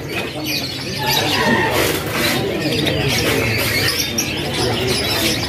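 Caged canaries at the Pramuka bird market twitter and chirp densely and continuously, a busy, fairly loud chorus with faint market bustle behind it.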